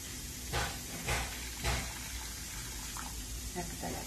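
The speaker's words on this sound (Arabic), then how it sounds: "نديرو الما سخون ديالنا" Hot water is poured while preparing lamb shoulder with rice, heard as faint, short splashing bursts over a quiet kitchen background.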